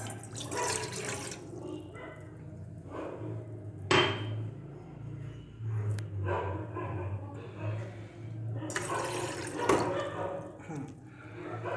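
Water is poured into a pan on a stove flame to make herbal pitta-calming tea, giving a nearby splashing and trickling with several bursts and pauses and some clinks of utensils.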